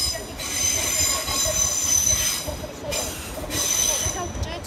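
A Pendolino train pulling into a platform at London Euston, its wheels giving a sustained high metallic squeal that rises and fades in waves over a low rumble of rolling stock, with faint station noise.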